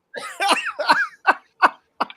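A short burst of harsh coughing, several rapid coughs followed by three sharper single coughs spaced apart, close and fairly loud.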